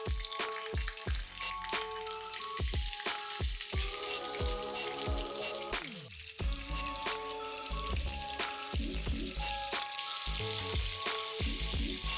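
Mackerel pieces fry in hot oil with a dense, crackling sizzle full of sharp popping bursts, close and loud throughout with no voices.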